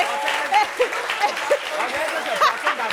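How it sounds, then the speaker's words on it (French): Audience applause at a comedy show, clapping spread across the clip with scattered whoops, chuckles and chatter from the crowd mixed in, moderately loud. "On peut applaudir le Suspect."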